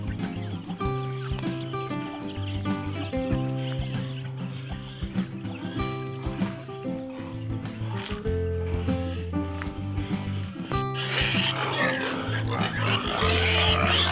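Hungry pigs on a farm grunt and squeal in a noisy chorus, with chickens clucking in the mix and a louder burst of squealing toward the end.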